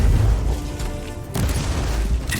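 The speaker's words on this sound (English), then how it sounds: "that was a neat little explosion over there" A loud, rumbling explosion in the Warhammer 40,000: Inquisitor - Martyr video game, a dense roar with a second burst swelling midway through the clip and filling it throughout.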